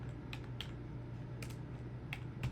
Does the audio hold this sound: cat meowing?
no